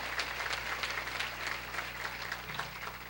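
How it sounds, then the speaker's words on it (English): Applause from an audience at a farewell tribute evening, a dense steady wash of many hands clapping at moderate volume throughout, with a low hum beneath. "I'm glad you clapped"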